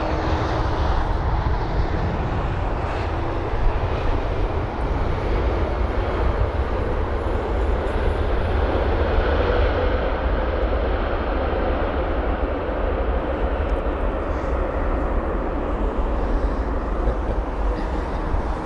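An airliner lands at London Heathrow, a loud, steady roar of jet engines that holds without a break for the whole stretch.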